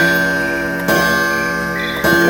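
A bell rings loudly and steadily with a sustained, resonant tone in a performance of Macbeth, struck again around the middle and once more near the end.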